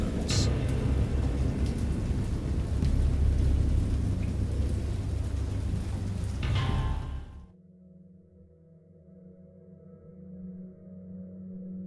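A loud, continuous storm of rain and rumbling thunder in the horror video game Dagon, heavy and full for about seven seconds before cutting off abruptly to a low, steady hum.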